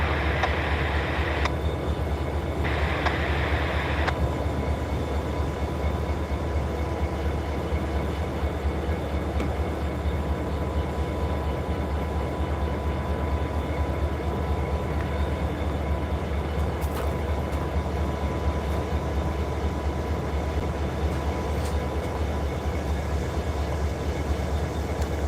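Freight train on CSX and Norfolk Southern lines hauled by SD40-2 and SD40-3 locomotives, passing below an overlook at Coffey's Cliff; a steady, loud rolling rumble fills the whole stretch with no talk.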